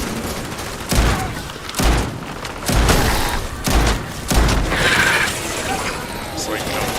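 Pump-action, magazine-fed shotgun fired in Starfield: five loud, heavy blasts spaced roughly a second apart, each with a low thump and a short decaying tail, with speech over parts of the clip.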